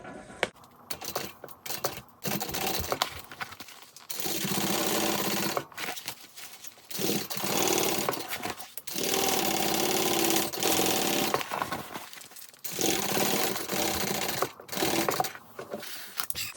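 A sewing machine stitches a handbag's exterior seam in several runs of steady whirring, each lasting a few seconds and separated by short stops, close and clear.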